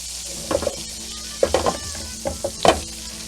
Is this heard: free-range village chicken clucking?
no